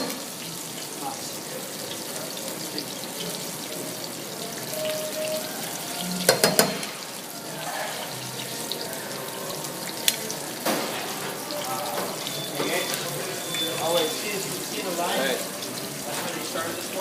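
Apple rings deep frying in a fryer give a steady, moderately loud bubbling sizzle that runs throughout, with a few brief clatters and handling noises over it.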